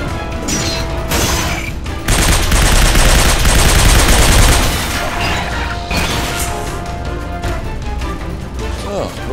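Heavy, sustained gunfire roars in a Binary Domain video game battle against robot enemies, with dense automatic bursts and crashing impacts, loud and continuous throughout.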